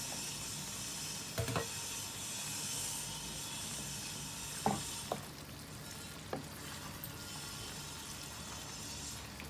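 Chicken karahi with yogurt being fried in a pan, a steady soft sizzle with a few sharp stirring scrapes and clatters against the pan, heard close and fairly quiet with no one talking.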